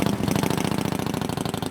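A cold classic car engine idles at a car meet on a frosty December morning, a close, loud, rapid rhythmic chugging with evenly spaced pulses throughout.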